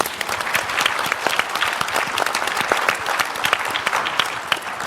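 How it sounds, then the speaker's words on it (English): A conference audience breaks into enthusiastic applause after a panel discussion on social value in procurement, many hands clapping densely and loudly throughout. "Big round of applause, please."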